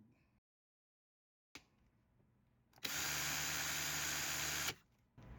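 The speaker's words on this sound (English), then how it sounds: "this is a Ryobi drill" A Ryobi 18V cordless drill running on a Kunlun compatible battery whines steadily for about two seconds, loud and close, after near silence and a few faint clicks.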